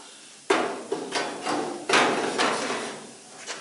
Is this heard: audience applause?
no